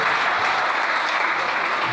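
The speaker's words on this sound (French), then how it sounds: "Est-ce qu'on va acclamer le Seigneur?" A church congregation applauds at a Sunday service, with dense, steady clapping from many hands filling the room at close range.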